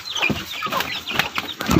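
Newly arrived Rhode Island chicks peep and chirp in quick, overlapping calls close by, with a few louder clucks and scratchy rustles, no talking.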